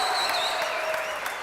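Crowd noise swells in a college basketball gym after two made free throws, a brief, steady wash of clapping and cheering with a high whistle-like tone riding above it.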